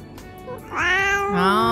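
A recorded cat meows twice in quick succession, loud and drawn out, with a rising then falling pitch. No talk is heard over it.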